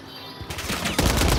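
Gunfire strikes the player in Call of Duty, rapid automatic shots and impacts cracking close and loud in a dense, quickening burst.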